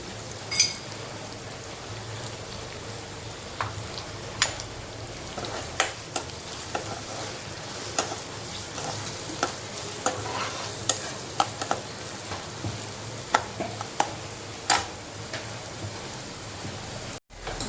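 Chopped onion sizzles softly in a pan for vermicelli upma, a faint steady frying hiss dotted with frequent sharp clicks and taps of a spoon stirring against the metal throughout.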